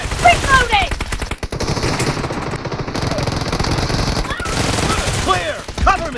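Sustained automatic gunfire in the PUBG Mobile battle game, rapid continuous bursts filling the stretch with shouted voices over the shooting at the start and end.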